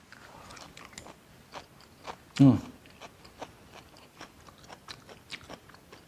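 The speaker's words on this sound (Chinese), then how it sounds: "还是吃一下看我们的菜到底炒的好不好吃哦" Someone bites and chews mouthfuls of stir-fried moo shu pork with tender sliced meat, producing soft crunches and wet chewing in a quiet close-up, with one louder bite near the middle and a faint voice in the background.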